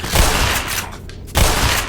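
Shotgun gunfire in the video game Black Mesa, two loud, heavy bursts close together, each ringing out briefly, with no talk.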